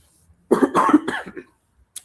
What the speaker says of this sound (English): Sorry, I have cough.